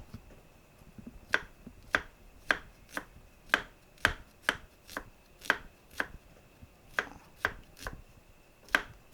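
Red shallots being sliced with a knife on a board, a close, crisp series of evenly spaced chops, about a dozen sharp cuts with no talk.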